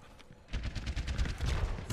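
Rapid bursts of Overwatch gunfire erupt after a quiet half second, a dense string of sharp shots continuing loudly to the end.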